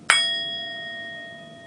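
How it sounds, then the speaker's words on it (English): A single bell is struck during a Zen listening meditation, a clear close ding with a long ringing tone that slowly decays, alone with no talk. "if you hear a bell"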